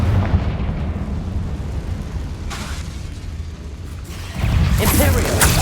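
Confringo blasting curse in the Hogwarts Legacy video game, a rumbling explosive burst with crackling debris, followed by a second loud boom near the end over low continuous rumble.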